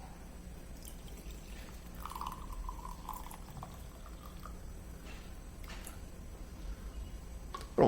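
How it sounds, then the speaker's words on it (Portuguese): About 150 ml of water is poured into a container in a kitchen, making a faint, short trickle over a quiet background hiss, with a small knock at the end. "Vou adicionar 150 ml de água."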